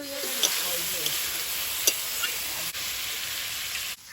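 Tender ol greens and stalks with cumin powder and shrimp fry in a pan, a steady bright sizzle broken by a few sharp clicks of utensils and a brief pause near the end.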